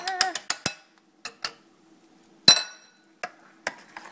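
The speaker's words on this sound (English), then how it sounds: "And we'll mix that all together." Clinks and taps of a utensil against a bowl while gyro sauce with mustard is mixed, a few quick knocks close up and then scattered lighter clinks with pauses between.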